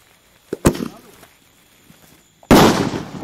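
Fireworks at a family fireworks show in East Texas: a sharp pop and crack early on, then a loud, close burst that roars and rumbles on to the end, with voices faintly around it.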